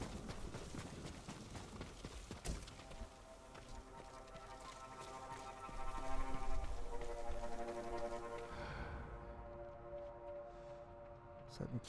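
Horse hooves clip-clop in a quick rhythmic patter, fairly close, over a layered musical background with no speech, in the video game Ghost of Tsushima.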